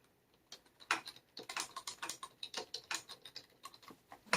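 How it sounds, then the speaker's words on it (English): Quick, uneven clicking of computer keys, a burst of typing with irregular rhythm, close and fairly quiet, no voices. "tap dance on my keyboard."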